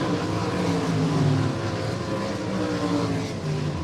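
Race cars battling wheel to wheel at I-96 Speedway, a dense, loud roar of several engines running together at full throttle, steady and continuous with no voices.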